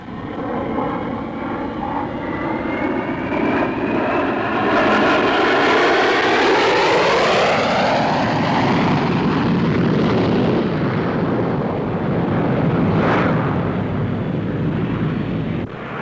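RAF display team jet aircraft flying overhead in close formation, a loud sustained engine roar whose pitch sweeps down as the formation passes, with no talk.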